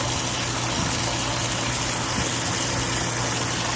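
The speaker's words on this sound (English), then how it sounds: "using a bucket or the hose, just filling it in to prime the pump" Water from a garden hose pours steadily into a pool pump to prime it, giving a constant, even rushing hiss with a low hum underneath and no pauses.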